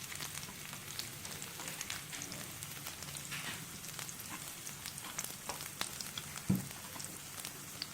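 Chopped garlic fries in hot oil in a pan for a fish sambal, giving a steady, close crackling sizzle throughout, with one brief louder clatter near the end.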